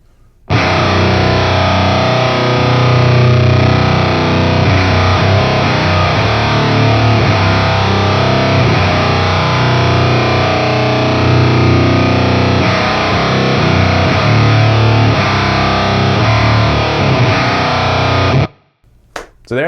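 Electric guitar played through a Suhr Thornicus fuzz pedal into an amp, a thick, heavily saturated wall of distorted chords sustaining loudly and continuously for most of the passage before cutting off abruptly near the end, no voices.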